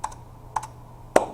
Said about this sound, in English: I'm just typing in random stuff